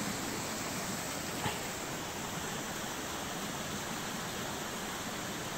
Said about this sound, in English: Water's pouring down.